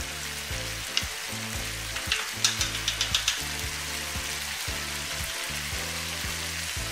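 Masala powder is stirred into tomato rice in a hot frying pan. A constant sizzle runs throughout, broken by repeated scraping spoon strokes and a brief cluster of sharp clatters near the middle.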